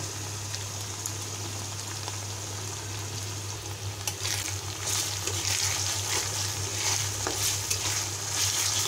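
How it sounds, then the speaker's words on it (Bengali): Cloves, cardamom, cinnamon and peppercorns sizzle and crackle steadily in hot oil, a soft continuous frying hiss with occasional pops, close by and without talk. "মশলাটা ভালোভাবে ভেজে নিতে হবে।"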